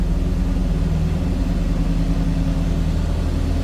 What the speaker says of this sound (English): Nothing crazy over the top or loud exhaust, just a nice throaty, deep rumble.